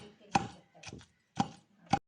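Salted gongura leaves and green chillies are pounded for chutney in four separate dull thuds, evenly spaced and close, with brief silence between strikes.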